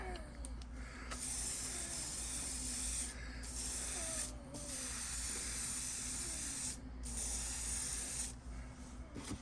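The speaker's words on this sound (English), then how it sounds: "We got to spray paint, and we got to add some thinner to this paint." A long, steady hiss of spray paint thinned for flow, applied to a skull, cutting out briefly a few times between bursts, close and fairly loud.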